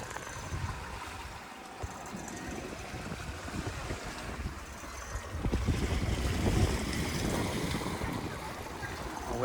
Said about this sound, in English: The waves are building as we're getting across here.